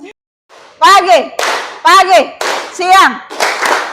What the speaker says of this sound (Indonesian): Ada tepuk tangan kita semua.